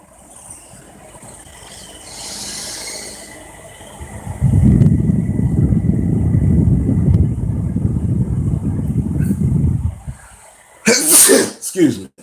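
A single sharp, loud sneeze bursts out near the end, following several seconds of low rumbling background noise that drops away just before it.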